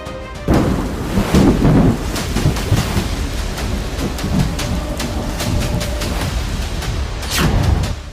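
A heavy thunderstorm in Gujarat roars steadily, with dense downpour noise and low rumbling thunder rolling throughout, loud and close, with sharper cracks near the start and end and no voices.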